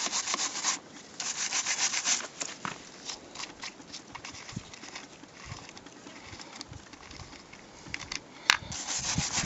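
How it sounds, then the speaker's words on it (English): A metal wire brush scrubs lead battery terminals in a steady, close, broadband rasping rub that continues throughout, with a brief sharp click near the end. "We're using the metal wire brush for this. This is cleaning the lead terminals."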